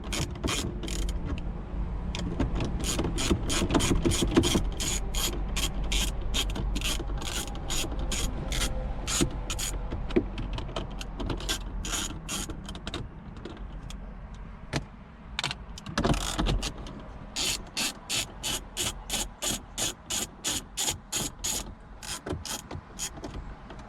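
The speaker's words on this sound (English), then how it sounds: "I have my 10mm ratchet right here. We're going to be taking these top bolts off." A 10mm ratchet clicks steadily as it loosens bolts inside the dash of a Lexus IS250/IS350/ISF during a radio install, with rapid pawl ticking in repeated close bursts and some mechanical creaks between strokes.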